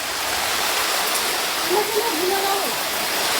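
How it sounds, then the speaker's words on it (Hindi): Heavy rain pours down in a steady, loud broadband hiss that fills the whole stretch, with a faint voice briefly audible beneath the downpour. "बहुत कितनी तेज बारिश"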